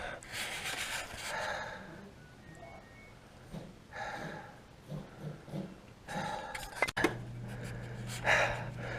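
Heavy, labored breaths from someone lying on their chest working on a Jaguar XK8 heater hose come in uneven gasps and puffs, close to the microphone, interrupted by a sharp clank and a low steady hum.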